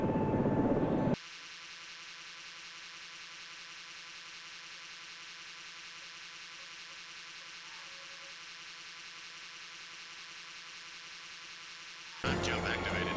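A helicopter flies at night in the SAR4 search-and-rescue simulator, with a steady droning whir of engine and rotor that holds constant for several seconds. Brief louder cockpit noise sits at the start and end.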